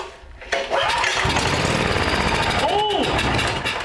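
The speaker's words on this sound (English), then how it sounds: "And it fired up! But only long enough to burn the starter fluid." A Homelite LRX5600 11.5 HP generator engine, primed with starter fluid, fires up and runs loudly for a few seconds with a rough, steady roar before faltering.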